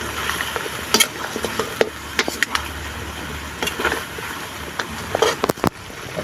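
Native chicken frying with oyster sauce and soy sauce is stirred in a pan, giving scattered scraping and clacking strokes over a steady low sizzle.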